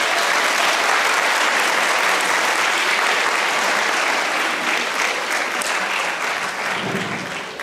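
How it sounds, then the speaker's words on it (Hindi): Loud, sustained applause from an audience for the performers of a stage production of Anand Math, dense clapping filling the space throughout and tapering slightly near the end. "सभी कलाकारों के लिए एक बार जोरदार तालियां हो जाएं।"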